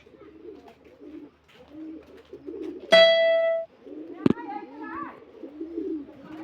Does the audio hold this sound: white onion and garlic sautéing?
no